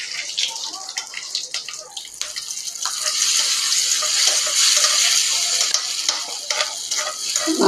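Curry leaves sizzle and crackle loudly in hot oil for a chutney tempering, a steady bright hiss with scattered pops that swells midway and runs continuously.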